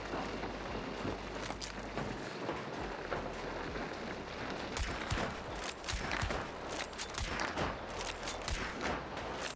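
Gunfire in the video game Hunt: Showdown, a dense run of sharp cracks over a constant rumbling game backdrop, louder bursts clustering in the second half, with no voices.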